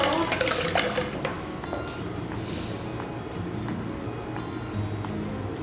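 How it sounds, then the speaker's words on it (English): Egg mixture pours and splashes into a dish, a steady wet gurgle that starts stronger and settles into a softer, continuous flow. "do you wanna pour the egg mixture on top of it?"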